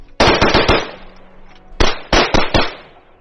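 Rifle gunfire at close range, two quick bursts of three to four sharp, loud shots each, separated by a short pause, with reverberating tails after each report.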